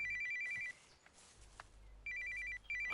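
A telephone ringtone trills in repeated electronic bursts, pausing briefly between rings, with a quiet room hum underneath and no one speaking.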